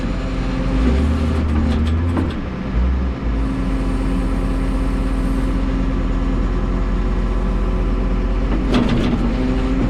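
Old school ditcher heard from the operator's seat while cutting a ditch along a gravel road: a loud, constant diesel engine drone with deep low rumble and intermittent clanks, close and continuous.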